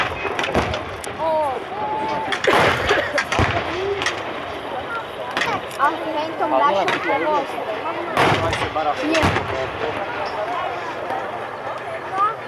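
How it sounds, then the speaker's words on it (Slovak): Battle reenactment with WWII weapons, including an anti-tank rifle, mortar and Panzerschreck, at a tank festival: repeated sharp gunshots and booming blasts at irregular intervals, with people talking throughout. "si všimnite, že v akcii je tam aj protitanková puška, mínomet, Panzerschreck, reaktívna protitanková zbraň"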